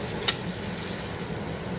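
Onions sauté with salt in a pan, giving a soft, continuous sizzle and light crackle with one brief clink near the start; close and fairly quiet, with no talking.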